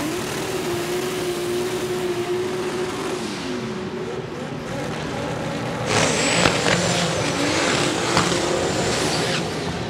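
Powerful drag racing cars roar at a Brazilian drag strip, a sustained engine drone that swells sharply midway as a car launches and accelerates hard, loud and continuous.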